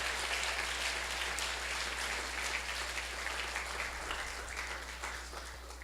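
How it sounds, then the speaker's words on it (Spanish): A church congregation applauds steadily in a large hall, a dense wash of clapping that holds for the whole stretch and eases slightly toward the end, with a low steady hum underneath. "Dele un aplauso al Rey de Reyes y Padre Celestial."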